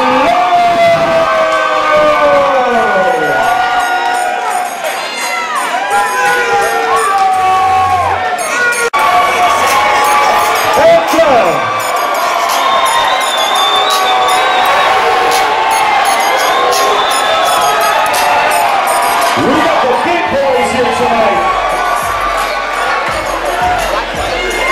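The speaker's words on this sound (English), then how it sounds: "we got combatants right here in the crowd. I'm glad we're sitting you guys far apart. Make some noise for Eric" A crowd at a heavyweight fight event cheers, whoops and shouts loudly and continuously, with voices near and far layered in a dense roar throughout.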